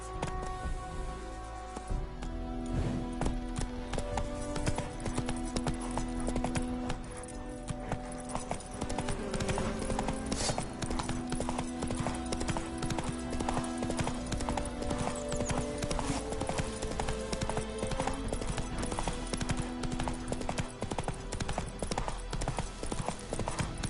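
Roach the horse galloping in The Witcher video game, a steady stream of hoofbeats over dense game music throughout, with a faint whinny partway through.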